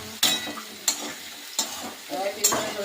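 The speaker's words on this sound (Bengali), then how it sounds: "চানা বটাটা, তাই আলুটা ভেজে নিচ্ছি।" Potatoes frying in a pan for chana masala, with a handful of sharp scrape-like bursts about every half second to second over a low background sizzle, close and loud.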